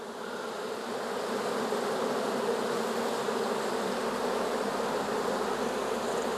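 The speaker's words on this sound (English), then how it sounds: "Wow, so many bees" Dense, continuous buzzing of many honey bees in an open hive fills the air close by, steady and fairly soft, with no voices heard.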